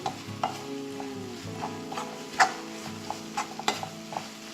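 Chili powder fries in oil for an egg masala while a spoon stirs it. A soft, steady sizzle sits beneath a handful of distinct scraping strokes and light metallic taps against the pan, heard close up.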